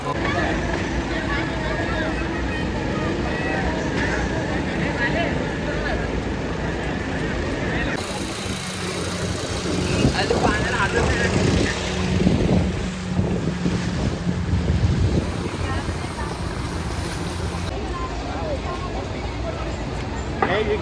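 A boat rides on the Narmada river near a dam, its engine and the wash of the water steady beneath heavy wind buffeting, while people talk throughout.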